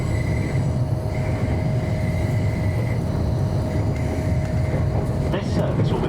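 A steady low rumble of a Transpennine Express train running toward Manchester Victoria, heard from inside as continuous rolling noise with a faint tonal hum and light rattles near the end.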